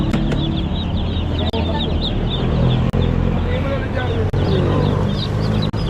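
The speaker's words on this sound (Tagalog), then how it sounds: "Yan yung sisiw oh." Many young chicks peep continuously in a crowded cluster while being bought, a dense high chirping over loud, steady background noise, with people talking nearby.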